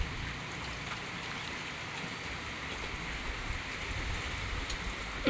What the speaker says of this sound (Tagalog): Agoy, grabe ang ulan guys.